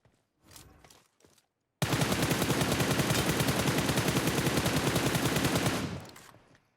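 Gunfire in the video game PUBG Mobile on the Erangel map: a few faint thumps, then one long, loud automatic burst of rapid evenly spaced shots lasting about four seconds before cutting off.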